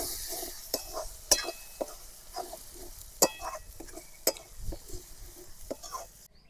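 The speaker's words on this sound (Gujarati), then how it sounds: "તો આપણે ટમેટા નાખી દેવી ટમેટા મિક્સ કરી દેવી" Tomatoes go into a pan of frying onions and are stirred, giving soft sizzling under repeated sharp scrapes and clinks of a spoon against the pan, fairly quiet and close.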